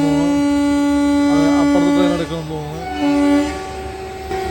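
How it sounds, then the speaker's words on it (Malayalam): A train horn sounds loud and sustained in steady tones over the rumble of rail cars rolling close by, near Kochi. "അടുത്ത ട്രെയിൻ വരുന്നുണ്ട് ഒരെണ്ണം"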